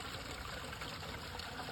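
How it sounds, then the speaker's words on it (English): Soapy grey-tank water from an RV drains through a sewer hose in a faint, steady hissing rush that stays constant for the whole short stretch, with no voices. "We're gonna open up the gray tank. All right. So this is all that soapy water here."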